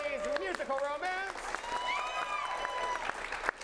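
Audience applause at an improv comedy shootout show, steady clapping under a voice that talks and rises over it throughout.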